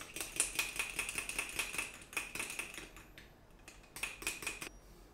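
A fiber supplement being mixed into a shake, heard as rapid, rhythmic clinking bursts like a spoon rattling in a container, close, with a brief pause midway before resuming.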